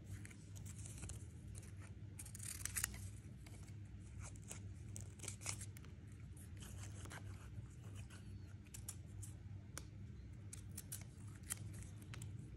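Scissors snipping paper with paper bits stuck in the blades while making a black and pink box: quiet, irregular clicks and snips, close but faint, over a low steady background hum.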